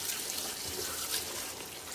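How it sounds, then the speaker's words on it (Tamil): Water pours into a cooking pot for chicken dum biryani after the spiced chicken has been fried with turmeric. A soft, steady splashing rush continues without a break. "எடுத்து வச்சு வாட்டர் ஊற்றிட்டு இருக்கோம்"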